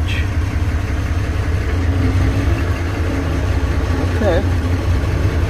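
An 86 series vehicle idling during a test drive, a steady low rumbling engine drone that runs throughout at close range, with a person talking over it.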